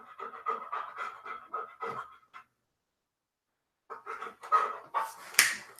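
A dog pants in quick, rhythmic bursts close by, with a pause of silence midway before the panting resumes, more heavily and louder toward the end.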